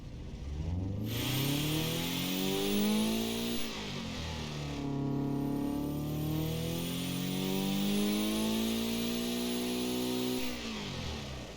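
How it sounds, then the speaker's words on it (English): A Subaru boxer engine in a car video game rumbles and revs in several long rising and falling sweeps, loud, close and alone with no talk. "you gotta love that boxer rumble"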